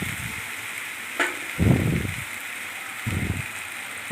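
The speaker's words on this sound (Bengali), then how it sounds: "আবার ঢাকনা সরিয়ে আবার নাড়তে থাকলাম যাতে লেগে না যায়" Sweet and sour mango pickle made with mango and sugarcane jaggery is stirred in a pan. Soft scraping bursts come in two short rounds over a quiet, steady sizzle, with a light clink between them.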